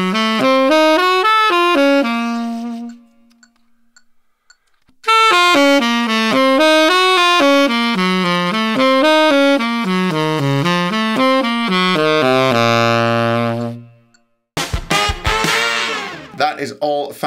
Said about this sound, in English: Here's the pattern with sevenths on the harmonic minor. So C harmonic minor.